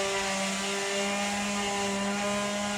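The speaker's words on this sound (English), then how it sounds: "Dave is in the background sanding the other two pieces of wood" A power sander works on wood pieces for baseboards, a continuous steady motor whine with strong harmonic hum, constant in level throughout.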